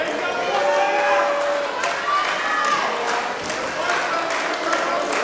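A wrestling crowd in Lima cheers and claps for Michaels during a match, a steady roar with scattered claps and thuds, under a commentator's talk.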